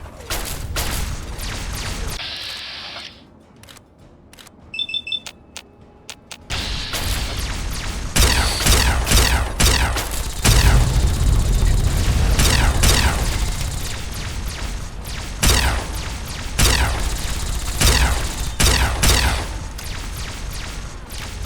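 A plasma rifle fires repeatedly during a battle in the video game Fallout 3, with loud bursts and booming impacts that drop out briefly before dense firing resumes.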